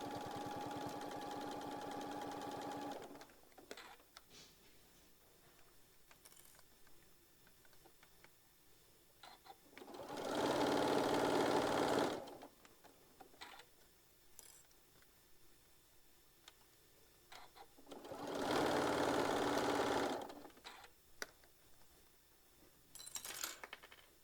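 A sewing machine stitching and back tacking along a zipper edge on a tote bag, with two loud bursts of rapid mechanical stitching separated by quiet stretches of faint ticks and handling.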